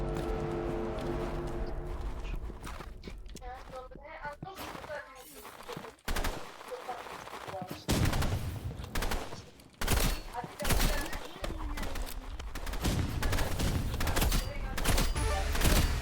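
Rapid bursts of video-game gunfire ring out as shots are fired from a rooftop, loud and dense automatic volleys broken by short pauses, with faint voices and other game sounds underneath.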